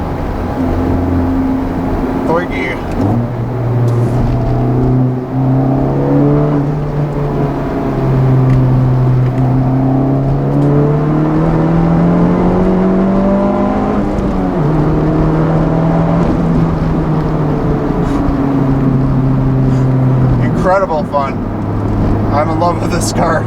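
A 2019 Honda Civic Type R fitted with a Borla exhaust accelerating through gears, the engine note climbing in pitch, dropping at shifts and climbing again, loud and continuous from inside the car.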